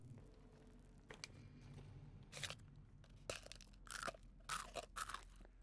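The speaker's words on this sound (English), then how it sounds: "Something about your character opening that box of cereal or eating those noodles is just really satisfying" Crunchy bites and chewing from a character eating cereal or noodles in the survival game Sons Of The Forest, several loud crunches in short irregular bursts over a low ambient hum.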